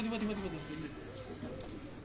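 A Lal Pari pigeon brought from Mumbai coos softly on a rooftop, its low throaty calls clustered near the start while someone talks over it throughout.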